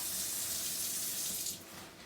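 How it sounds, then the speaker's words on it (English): Tap water runs steadily into a sink while loose dental instruments in a plastic container are rinsed before ultrasonic cleaning, a continuous close splashing hiss that softens slightly toward the end. "I'm going to turn on the tap water."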